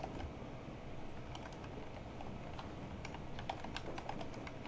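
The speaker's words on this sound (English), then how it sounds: "Now this image is on a URL, so I'm going to type that out." Keys tapped on a computer keyboard while entering a web address, a quiet, irregular run of small clicks over a steady low background hum.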